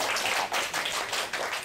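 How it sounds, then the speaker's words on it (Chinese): An audience applauds together to welcome a teacher at a holiday science talk, steady crowd clapping with pulsing surges, fairly close and alone. "我们现在就以最热烈的掌声欢迎我们谢辅仪老师"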